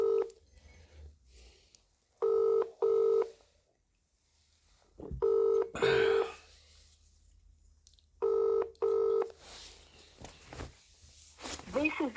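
A mobile phone call: short bursts of dialing tones followed by ringback tones, each pair of rings separated by pauses, clear and close, with quiet background noise between.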